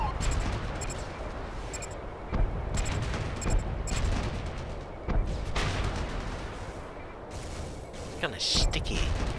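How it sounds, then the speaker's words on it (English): Heavy cannon fire in the video game Red Faction Guerrilla, a series of booming shots and blasts at irregular intervals amid continuous battle noise, with a voice talking over it. "I'm gonna shoot you with this cannon!"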